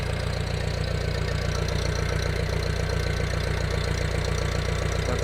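International Harvester 504 tractor engine running steadily after a hard start, a loud, close, rhythmic low chugging with constant vibration and an even idle throughout, no voices.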